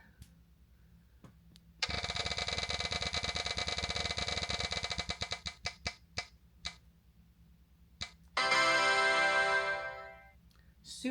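A book-picking prize wheel spins with a rapid run of ticks that gradually slows into sparse, spaced clicks, then a brighter whirring tone swells and fades near the end.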